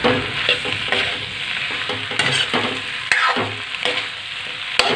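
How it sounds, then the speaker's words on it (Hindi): Mixed vegetables with garam masala being stirred in a pan, with steady close scraping strokes of a spoon over a continuous frying sizzle and occasional louder knocks against the pan, no voices. "इसमें थोड़ा सा गरम मसाला डाल देंगे, और मिक्स कर देंगे।"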